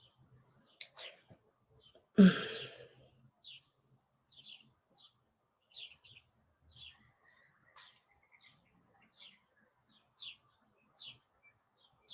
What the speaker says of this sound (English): I think it's Blackbird, right?